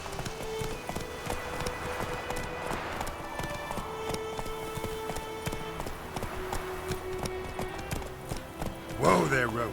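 Roach, a horse in The Witcher 3, gallops with steady rhythmic clip-clop hoofbeats over continuous background game audio, ending in a brief louder burst that may be a whinny.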